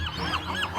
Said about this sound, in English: 1 billion seagulls.